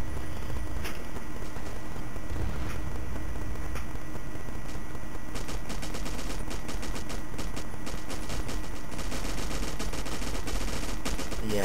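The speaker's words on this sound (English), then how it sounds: "you're hearing two machine guns because I'm using one right now, and the guy on the top of the tank is also using one" Two machine guns fire at once in Battlefield 1942, one from the player and one from a gunner atop a tank, giving dense rapid bursts over a constant roar of battle noise, heaviest in the second half.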